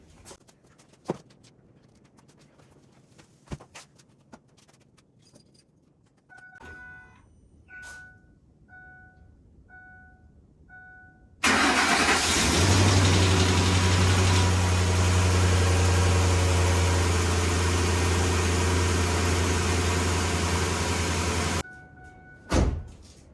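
A 2006 Ford F-150 is started after an oil change: a few quiet clicks and a chiming tone, then the engine fires and idles loudly and evenly for about ten seconds before shutting off.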